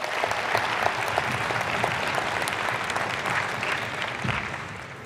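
An audience at a Digital Summit talk in Jinnah Convention Centre, Islamabad, applauds loudly and steadily, a dense, sustained clapping that fills the hall throughout.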